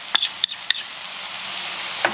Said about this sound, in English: We're going to give it a stir, cover it, and let it sit for 3 minutes.